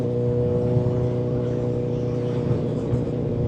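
An MV Agusta F4 1000 motorcycle drones steadily under the rider on an English country B road, its exhaust a continuous, rich multi-toned hum with wind noise.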